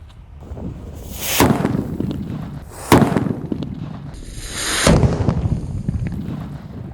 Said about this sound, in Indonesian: kita akan menyalakan mercon buntelan kertas segini ukurannya, yang paling kecil ini